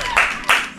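Two short, crisp claps of a clapping sound effect, evenly spaced and fairly close, sounding alone with no talk over them.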